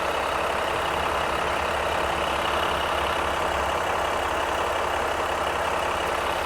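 A 2020 Ram Rebel pickup with the 3.0-liter EcoDiesel engine and 8-speed transmission runs steadily, a loud continuous low diesel drone with broadband hiss, heard close and alone with no talking.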